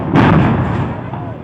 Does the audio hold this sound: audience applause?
no